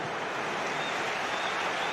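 Crowd at a football stadium cheering and applauding, a dense continuous roar that stays loud and steady throughout.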